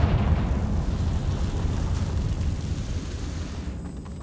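Confringo fire spell explosion in Hogwarts Legacy, a sustained loud roaring blast with rumbling low end that slowly eases off over several seconds, no talk.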